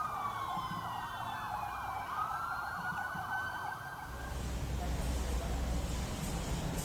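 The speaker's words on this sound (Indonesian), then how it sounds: "suara sirine kendaraan taktis milik Densus dinyalakan seperti sedang menggelar suatu operasi" Several wailing sirens of Densus tactical police vehicles overlap in a steady drone, with the pitch sweeping up and down. Partway through, a burst of broadband noise takes over and the sirens fade into it.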